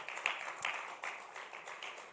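A small audience gives a round of applause, faint distant clapping with a few sharper claps standing out, fading gently across the stretch.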